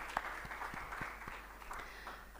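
A conference audience at a workshop on climate risks gives a faint, brief round of clapping, soft and distant in a large room.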